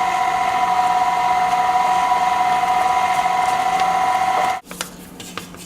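An electric mixer whirs steadily as cake batter is mixed with buttermilk for a Boston cream pie, a loud constant motor hum that cuts off abruptly near the end, leaving quiet room noise.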